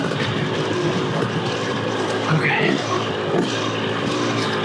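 A 2-stroke dirt bike engine running on an Arizona trail, a steady buzzing drone throughout with slight revving changes, close and continuous, with a brief spoken word.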